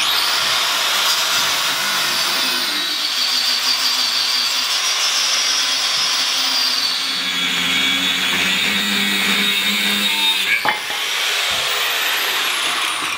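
A power tool whines continuously and loudly while cutting off old leaf spring U-bolts on an L200 pickup in a garage, its pitch dipping as the cut loads, with a sharp metallic clank near the end.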